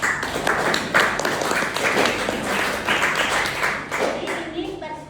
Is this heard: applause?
yes